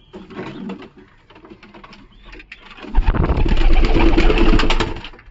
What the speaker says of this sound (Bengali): একটা পায়রা রয়েছে দেখুন